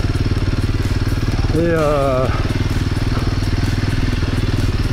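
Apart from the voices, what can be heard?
trial motorcycle engine revving over bumps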